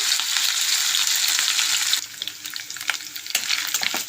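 Dry fish sizzling loudly in hot oil in a home kitchen pan, frying steadily with a dense, bright crackle that eases slightly after two seconds and continues with scattered pops.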